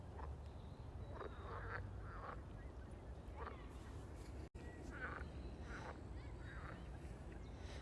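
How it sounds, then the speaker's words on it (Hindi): A dense chorus of frogs croaks steadily at a pond, with a voice speaking quietly over the constant calls. "यहाँ पे बहुत ज़्यादा मेंढक हैं और उनकी आवाज़ें आ रही हैं बड़े मज़े की"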